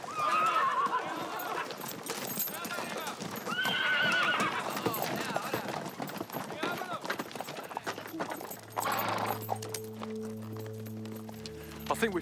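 Horses clip-clop and neigh loudly near the camera amid soldiers in a 19th-century period drama, with shouted voices over the hoofbeats and a whinny standing out, before a low musical drone enters at the end.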